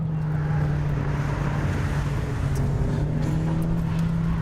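Renault Clio Sport RS200 on a race track, a steady sustained engine drone with a strong low tone and wind rush, continuous and fairly close, with no speech.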